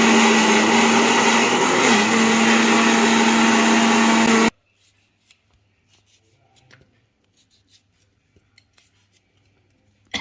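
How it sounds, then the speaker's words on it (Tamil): A mixer grinder grinding spices for fish curry whirs loudly for about four seconds, then cuts off abruptly, leaving faint clicks and small handling sounds in near silence. "இப்போ நம்ம அரைச்சிக்கலாம்."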